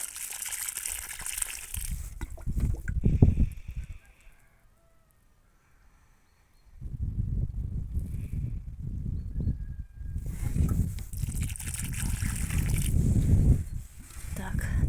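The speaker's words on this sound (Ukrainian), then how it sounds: "налила я водички, вона посяде і ще водою з актарою піду і пролю ще раз всі троянди" Water gushes from a can or hose onto soil around newly planted roses in a garden, in two long pours broken by a quiet pause.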